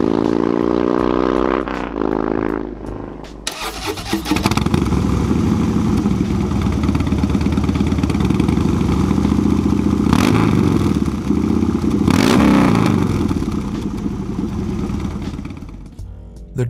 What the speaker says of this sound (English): Harley Davidson tried to trademark the sound of their motorcycles.